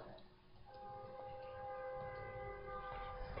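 A vehicle horn honks outside, heard faintly and from a distance as a sustained tonal blare that holds for a few seconds under a low background hum.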